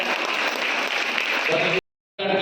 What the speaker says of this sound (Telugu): అందరు కలిసి గట్టిగా చప్పట్లు కొడతాం